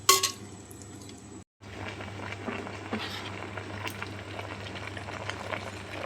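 Chicken simmers on a low flame in a covered clay pot, giving a steady, soft bubbling and patter that continues throughout, with a faint clink near the start.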